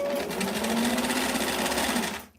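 Close, steady whir of a sewing machine stitching a small Barbie square dance dress, running continuously and fading out at the end.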